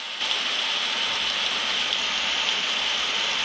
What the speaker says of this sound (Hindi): ये अचानक बारिश कैसे पड़ने लग गई?